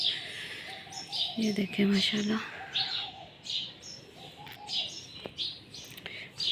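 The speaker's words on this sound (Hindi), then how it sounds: "इतनी प्यारी चिड़ियाँ चहचहा रही हैं ना" Birds chirp and tweet through a morning outdoors, with short repeated calls near and far and a low cooing call, while someone speaks over part of it.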